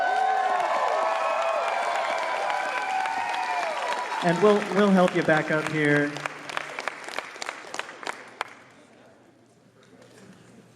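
Audience applause for the Best in Show cosplay contest winner at the Portland Retro Gaming Expo, a broad crowd clapping under a host's talk that thins out and fades to near quiet by the end.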